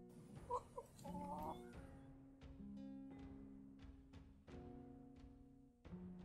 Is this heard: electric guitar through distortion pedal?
no